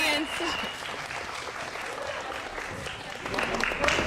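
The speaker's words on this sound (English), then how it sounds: "Cheer us on, audience." A live theatre audience at a choreography showcase clapping and cheering, a dense wash of applause with voices calling out over it, growing a little louder near the end.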